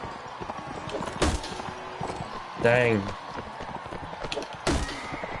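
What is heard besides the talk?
horse hooves galloping in the video game Mount and Blade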